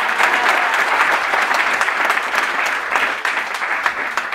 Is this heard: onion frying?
no